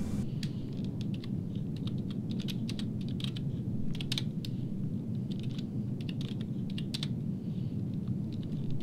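Steady typing on a computer keyboard during a flight simulator session brings a continuous patter of close key clicks over a constant low rumble, with no voices.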